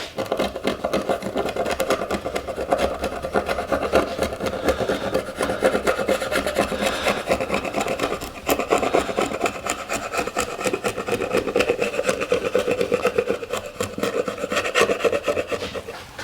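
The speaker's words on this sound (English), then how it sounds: "you can slice it off easily with a chisel, and I'll show you how I do that" Continuous rasping and scraping as a chisel slices partly dried filler off a wooden Precision Bass body, close and steady throughout with no speech.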